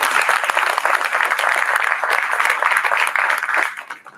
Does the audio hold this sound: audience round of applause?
yes